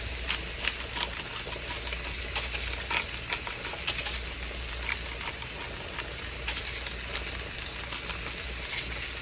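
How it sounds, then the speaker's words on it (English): Lamb and steak sautéing in a pan, a steady dense sizzle with light crackling pops running throughout, close and fairly even, no talking. "I'm gonna let this all saute, flip it over, and then just let it slowly cook through"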